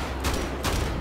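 Gunfire in Wolfenstein: The Old Blood comes as two loud, close bursts of shots about half a second apart, set against a constant low rumble.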